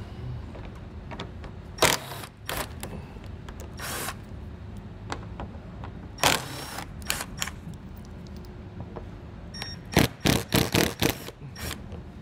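Socket wrench ratcheting as plastic nuts are removed from a 2020 Chrysler Pacifica during a trailer hitch installation, with bursts of clicking, a quick run of ratchet strokes near the end, and quiet gaps between.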